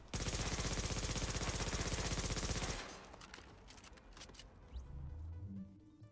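MP7 submachine gun fired from the hip in the video game The Division, a rapid continuous burst of loud automatic gunfire for nearly three seconds, followed by clinks, clatter and low rumbling game ambience.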